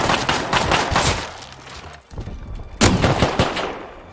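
Gunfire in Rust, repeated rapid shots in loud bursts, a brief pause, then another close volley.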